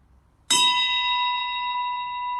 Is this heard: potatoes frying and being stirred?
no